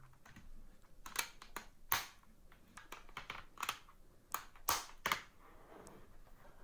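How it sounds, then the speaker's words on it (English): Small 3D-printed parts of an animated n8n logo clicking into place, a scattered series of close, sharp plastic clicks and taps, some louder than others, with no talking. "Finishing off with the smaller parts here, they also just click in nice and snug."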